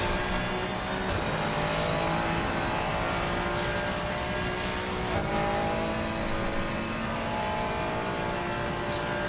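A Porsche GT3 race car in a racing video game screams past at high revs, a steady dense engine roar holding for several seconds with no talking over it.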